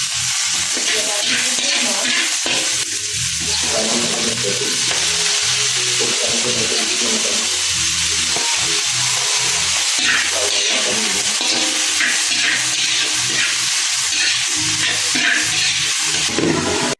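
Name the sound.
sautéing garlic, ginger and onion in a pan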